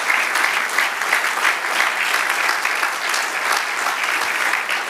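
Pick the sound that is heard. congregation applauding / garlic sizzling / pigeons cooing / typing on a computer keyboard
congregation applauding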